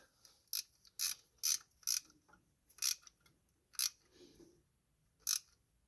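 A wrench ratchets as it tightens the 7/16 alternator bolt nut on a Bobcat Melroe M600 skid loader, giving a series of crisp, separate metallic clicks at an uneven pace in a quiet space.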